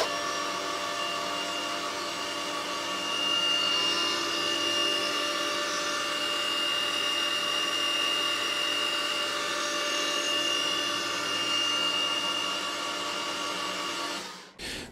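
Small 303 stainless steel parts are cut on a CNC machine in a finishing climb pass, giving a steady high whine with sustained tonal ringing and spindle hum that runs unbroken before stopping abruptly at the end.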